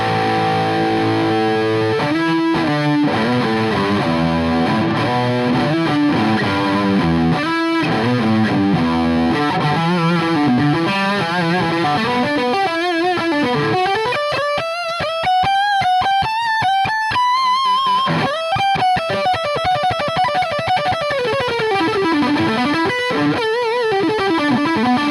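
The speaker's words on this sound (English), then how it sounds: "So let's hear the neck pickup." Heavily distorted electric guitar, an Epiphone Jerry Cantrell Les Paul Custom Prophecy on its neck pickup, plays sustained chords and bending lead notes, loud and saturated throughout.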